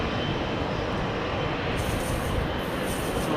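Virgin Atlantic flight 300 to Delhi departing Heathrow in the evening, a steady, loud broadband engine roar that holds constant throughout with a brighter hiss rising partway through.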